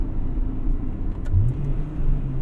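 A 1998 Acura Integra Type R engine revs during a downshift, a close steady cabin rumble that rises in pitch midway and then holds.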